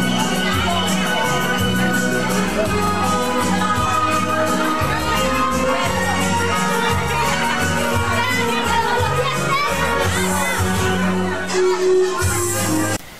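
Wedding guests cheer and shout for newlyweds at a civil ceremony during a district anniversary celebration, a loud, dense crowd roar with voices rising over it throughout.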